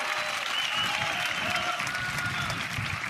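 Spectators clap and cheer at a doubles match at the Red Rock Open, a dense, steady wash of applause heard from within the crowd.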